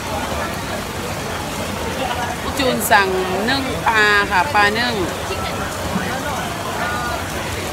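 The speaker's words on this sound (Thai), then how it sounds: "ตกหนักจริง ๆกินกลางสายฝน" Heavy rain pours steadily at an outdoor street-food dinner on Jalan Alor in Kuala Lumpur, a constant broadband hiss running throughout while someone talks over it.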